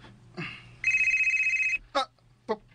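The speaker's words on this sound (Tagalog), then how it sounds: "Si Venus man yun ang nanawag." A phone rings with an incoming call, one sustained electronic ring lasting about a second, followed by short bursts of nearby voice.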